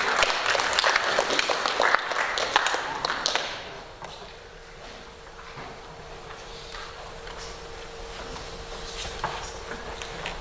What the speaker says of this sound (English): John, let's give him a round of applause.